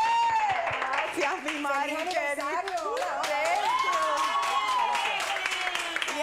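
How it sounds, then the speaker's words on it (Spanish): Studio audience applause on a Spanish-language TV talk show, steady clapping running beneath someone speaking over it. "¡Aplausos!"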